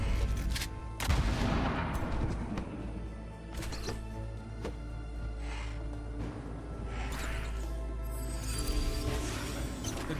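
Gunners firing in a video game, heard as scattered cracks and booms of fairly quiet gunfire over a steady low rumble of background game sound, with no speech.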